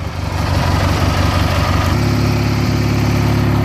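A Craftsman GT6000 riding mower engine running close by, a loud steady mechanical drone that shifts to a smoother, even pitch partway through and holds without talk.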